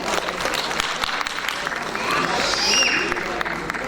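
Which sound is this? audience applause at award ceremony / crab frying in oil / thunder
audience applause at award ceremony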